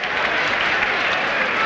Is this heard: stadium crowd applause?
yes